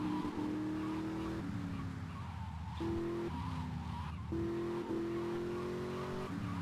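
A car in GTA Vice City Definitive Edition drives with a steady engine drone and repeated tire skids that cut in and out over several seconds. The sound is loud and continuous, with no talk over it.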